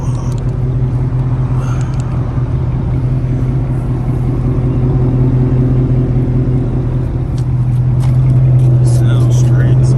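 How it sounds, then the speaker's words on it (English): A 2006 Dodge Charger R/T with its stock exhaust idles in a steady, deep rumble, swelling slightly louder toward the end, while someone talks over it. "Just wanted to give y'all a little idle clip real quick."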